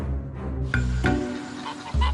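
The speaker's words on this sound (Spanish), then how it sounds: "se podían encontrar bandadas de gansos en todas las aldeas" Geese honk in short repeated calls over a steady low rumble, the honks loud and close, with a flock sound continuing across the brief stretch.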